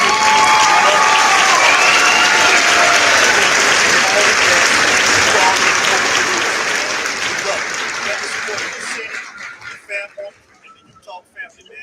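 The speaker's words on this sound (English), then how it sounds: "let's give Miss Randaysha Hinson McCrary a round of applause before we get out of here" Loud crowd applause with cheering and whoops, steady for several seconds before thinning into scattered claps and fading out.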